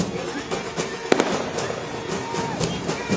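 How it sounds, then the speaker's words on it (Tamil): Fireworks bursting during a political welcome for a party figure in Mannargudi, with repeated sharp cracks and pops at irregular intervals over a continuous crowd-and-outdoor bed, some bangs close and loud, others more distant. "வான வேடிக்கைகள் முழங்க உற்சாக வரவேற்பானது வழங்கப்பட்டு வருகிறது"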